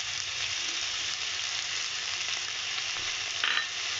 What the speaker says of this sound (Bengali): সয়াবিনটা এর সঙ্গে একটু ভাজা ভাজা করে নেব।